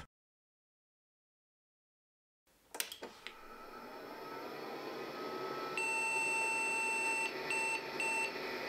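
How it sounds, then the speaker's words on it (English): An IBM XT 5160 powers up after silence: a click and thumps, then the power supply fan spins with a steady whir while a series of high POST beeps sounds, indicating no graphics card installed. "Hearing the power supply spin and the series of beeps, which indicate that no graphics card is installed"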